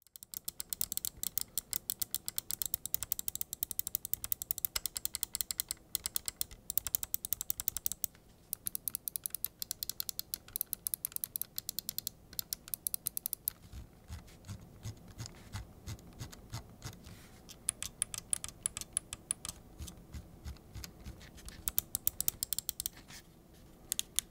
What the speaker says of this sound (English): Let's drop a sound test so you guys can hear what this mouse sounds like.